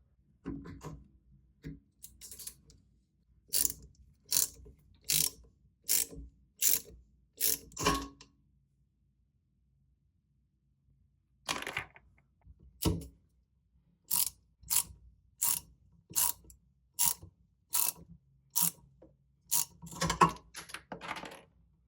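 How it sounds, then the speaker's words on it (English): A wrench tightens a toilet seat bolt in two runs of evenly spaced, close ratcheting clicks, with a quiet pause between them and no talking. "You want to place your wrench below that on this lower portion because you're going to tighten it until this portion snaps"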